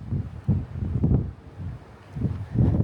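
Strong wind gusting at an RV boondocking site beside a protective berm, roaring in repeated low buffeting surges against the microphone with brief lulls between gusts.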